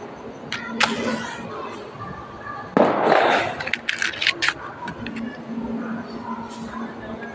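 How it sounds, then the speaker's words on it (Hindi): A Diwali firecracker blasts outdoors, with a sharp crack and crackling bursts around the midpoint over steady background noise, preceded by a few smaller pops. "जैसे कि आपने देखा धमाका इतना ठक करके हुआ, मज़ा आ गया पूरा।"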